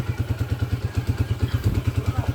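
A motorcycle with a 200cc converted engine idles close by, its exhaust putting out a fast, even train of deep thumps. Faint voices sit beneath the loud, steady beat.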